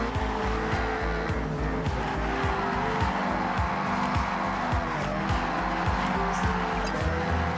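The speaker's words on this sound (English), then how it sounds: "Look at how clean this car drifts." A car in the Forza Horizon racing game drifts with a steady engine roar and continuous tire squeal, loud and close, the engine pitch rising and falling in repeated surges across the slide.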